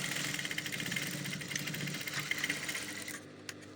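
A sewing machine runs a back stitch along an ankara umbrella flare dress, a quiet rapid mechanical chatter that stops briefly near the end before a final short burst.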